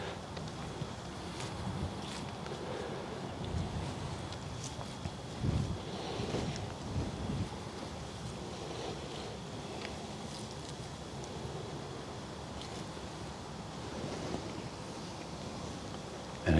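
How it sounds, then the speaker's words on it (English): A light outdoor breeze rushes in soft, steady gusts across the microphone, faint and low with a few brief swells, and nothing else stands out. "Got a little bit of a breeze or a wind today."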